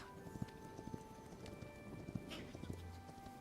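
A horse's hooves clip-clop in the Hytale video game, with a few irregular, moderately loud steps over steady in-game ambience and no voices.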